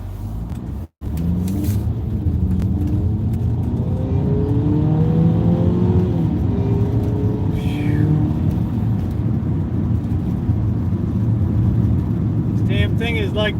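Fiat car with 128,000 miles and a 2.4 engine accelerates from inside the cabin, a steady rumbling engine drone rising in pitch, with someone talking over it.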